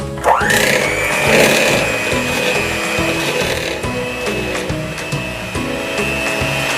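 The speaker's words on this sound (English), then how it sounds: "we are going to mix our butter until it is light and fluffy" An electric mixer creams butter for a chocolate cake frosting, its motor whining up to speed at the start and then holding a steady, loud buzzing drone throughout with no talking.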